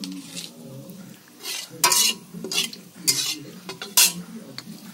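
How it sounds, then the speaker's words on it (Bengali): Chopped onion hits hot oil in a wok with dry red chili and bay leaf and is stirred. Bursts of sizzle and repeated scraping of a spatula against the metal come close and loud, with no talk. "ফোড়ন থেকে সুন্দর একটি গন্ধ বেরোলে তার মধ্যে দিয়ে দিতে হবে পেঁয়াজ কুচি"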